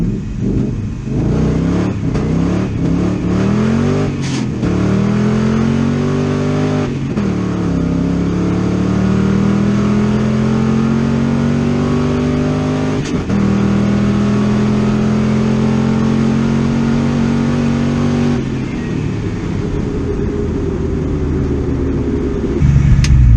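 Ford Mustang DriftStang, running with the MAF sensor unplugged, accelerates hard on a quarter-mile run, engine note climbing steadily through several gear changes, loud and close throughout.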